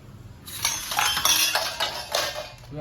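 Clinking and scraping of a utensil against a bowl while mixing mango pickle with mustard, cumin and oil, several irregular clattering strokes close up, no voices.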